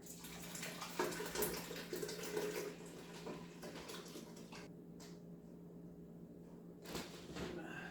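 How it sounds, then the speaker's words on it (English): Liquid is poured into a cinnamon orange bread mixture in a bowl, heard as a faint, steady trickling wash that fades to near quiet midway, then returns briefly with a soft splash. "now we add our other liquid in here."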